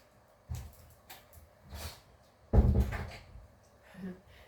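A door being shut indoors: a few dull knocks and clunks, with one heavier thud in the middle, then quiet room tone, with no talking.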